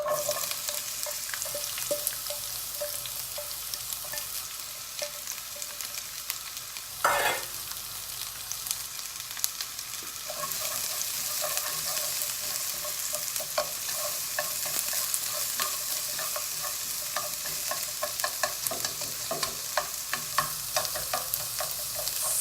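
Onions frying in golden-browned garlic and oil for a sweet and sour pork sauce, a steady broadband sizzle with stirring clatter and a sharp scrape midway, continuous and close with no talking.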